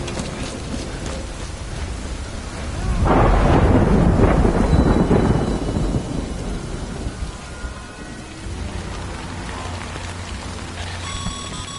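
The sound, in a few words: rain and thunder in the video game Death Stranding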